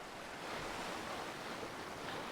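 Ocean waves wash steadily onto a shore in a constant, broad roar with no clear breaks, fairly close and moderately loud, with no voices.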